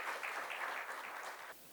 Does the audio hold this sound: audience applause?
yes